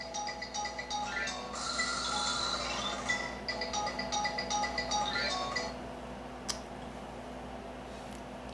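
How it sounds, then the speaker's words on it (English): A phone ringtone plays a tinkling electronic tune for about six seconds, close and moderately loud, then cuts off, leaving faint room noise and a few small clicks. "Yeah, I picked that ringtone."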